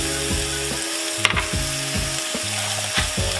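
A burger patty for a PB&J grilled cheeseburger fries in a pan with a steady sizzle, while a low motorized whine rises and falls repeatedly beneath it and a single sharp tap sounds partway through.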